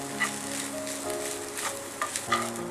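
Vegetable fried rice, with chilli sauce and chilli garlic sauce just added, sizzles in a pan and is stirred. Steady close frying carries a few scraping knocks from the spoon.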